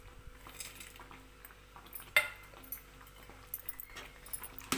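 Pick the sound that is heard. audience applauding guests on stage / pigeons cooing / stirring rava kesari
stirring rava kesari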